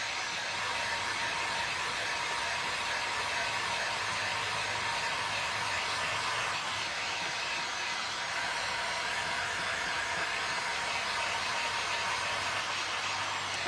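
A hair dryer blows continuously at close range, a steady loud airy roar with no breaks, used to dry Posca paint-pen marker on a vintage picture frame.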